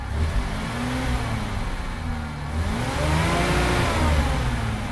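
Mercedes Unimog off-road truck with its axles fully locked, engine revving as it pulls away; a steady, fairly loud engine drone whose pitch dips and rises again.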